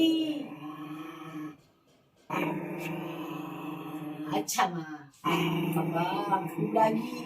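A pet dog gives drawn-out, low, growling whines in several bursts separated by short pauses, heard close by while someone talks over them.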